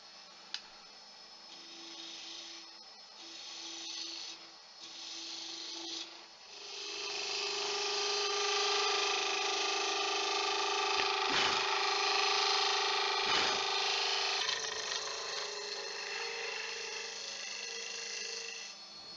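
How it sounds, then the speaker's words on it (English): A wood gouge cuts into a spinning bud vase on a lathe, a soft rasping hiss that starts faint and intermittent, then becomes a steady louder scraping with a couple of sharp knocks. "I'm just going to get the gouge to the end and hollow out the end"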